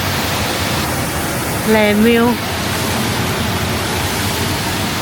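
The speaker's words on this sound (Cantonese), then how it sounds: "聽住呢個瀑布嘭嘭聲瞓覺" Near a holiday villa in Kyushu's Aso area, a waterfall rushes in a loud, unbroken roar, with a short spoken remark over it.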